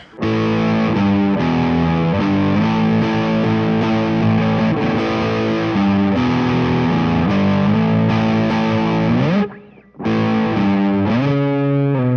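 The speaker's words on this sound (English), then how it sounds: "Turbo overdrive." An electric guitar on the neck pickup plays through the turbo overdrive of a BOSS MS-3 multi-effects unit. It gives a loud, thick, saturated riff of sustained distorted chords, with a short break near the end before it resumes.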